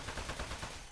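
Rapid gunfire in the video game Aperture Desk Job, a dense burst of shots rattling continuously for about a second before tapering off.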